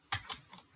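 Two quick keystrokes tap on a computer keyboard while a file path is typed, quiet and close, followed by a fainter click.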